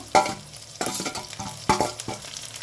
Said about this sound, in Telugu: కొద్దిగా ఇప్పుడు పచ్చిమిరపకాయలు వేసుకుందాము, కరివేపాకు కూడా వేసుకుందాము.